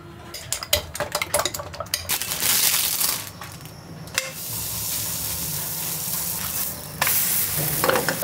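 Frozen paratha pressed down and fried in a pan, with scraping and clattering of a utensil against the pan over a steady sizzle, busier in the first few seconds and again near the end.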